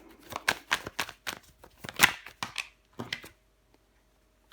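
Tarot cards are handled and laid down in a quick series of crisp, close slaps and shuffling swipes, about a dozen in rapid succession, followed by near silence.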